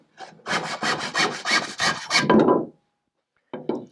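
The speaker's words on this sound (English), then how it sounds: "then I'm going to rough cut that off." A hand saw rough-cuts wooden stock for a deck beam on an International 2.4mR sailboat, loud and close with about eight even rasping strokes, a pause, then a brief final pair of strokes.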